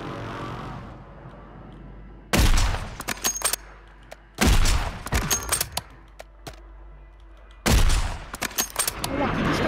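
Three bursts of rapid gunfire in Call of Duty: Warzone 3, each a loud volley followed by scattered shots, separated by quieter stretches with a low rumbling background.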